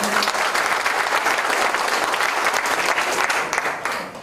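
Steady, loud applause from an audience at the 2024 opening ceremony of the Icheon livestock cooperative's new head office, dense clapping filling the whole stretch before easing slightly at the end.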